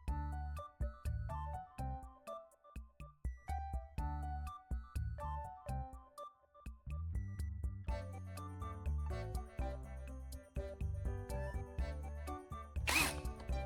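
An electric drill fastens a butterfly-shaped metal pull tab to the side of a cut tuna can, whirring in short stop-start bursts that give way to a longer, denser whine, close and fairly quiet.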